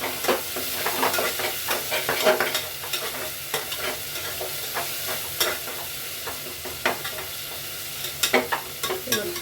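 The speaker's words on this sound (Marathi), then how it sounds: "त्यात कोथिंबीर परतून घेते" Coriander sautéing in oil in a pan alongside onion and tomato, a constant loud sizzle broken by repeated scraping and clinking stirring strokes, no voices.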